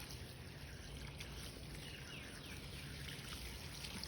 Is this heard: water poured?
yes